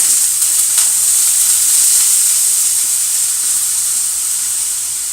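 Broken matzah fries in a pan with a steady, close sizzling hiss that stays even throughout, with no voices.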